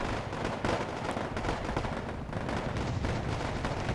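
A ZSU-23 style anti-aircraft gun in the Wargame: AirLand Battle video game fires at Mi-24 helicopters, a dense, continuous rumble of rapid gunfire and distant blasts with no talk.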